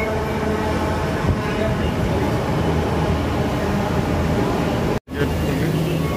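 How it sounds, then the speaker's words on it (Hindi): Metro train pulling into a station platform, a steady loud rumble and rolling roar with brief mechanical clanks, a short gap near the end, busy and close. "मेट्रो आ चुकी है,"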